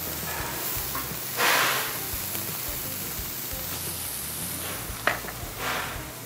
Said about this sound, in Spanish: Agregamos primero la cebolla, que cristalice, que dore un poquito.